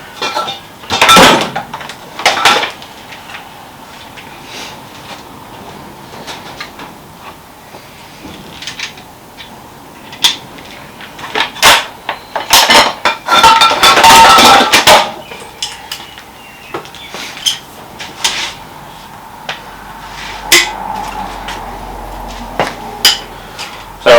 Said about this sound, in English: backing off all the bolts for the girdle, just to loosen them off